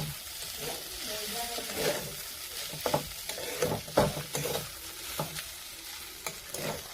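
Maggi noodles stir-fried in a pan with a continuous close sizzle and clusters of spatula scrapes and clicks, busiest in the middle, with no voices.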